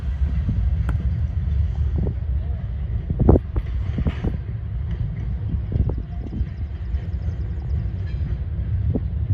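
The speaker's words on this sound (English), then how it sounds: "we see another CSX intermodal train heading west" CSX intermodal freight train passing westbound at Fostoria, Ohio, a steady loud rumble of wheels and cars with wind buffeting the microphone and a few sharp knocks.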